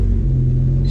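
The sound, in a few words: straight-piped car engine idling while warming up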